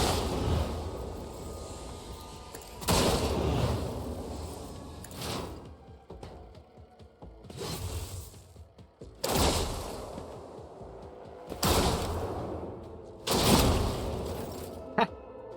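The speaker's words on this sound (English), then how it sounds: "I think it was a plasma explosion." Plasma explosions in the Warhammer 40,000: Rogue Trader video game go off as several loud, broadband bursts spaced a few seconds apart, with mechanical clatter and faint rumble between blasts.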